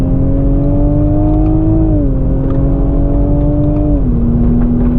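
A Toyota GR Supra accelerating hard on a race track, a loud steady engine drone climbing in pitch, dropping briefly at two gear shifts, then climbing again, heard from inside without talk.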